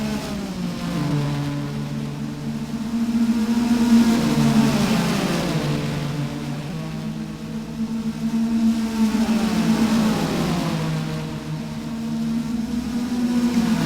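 Several race cars battle for position at Spa through Blanchimont, their engine notes overlapping and rising and falling in pitch as they pass at a steady distance.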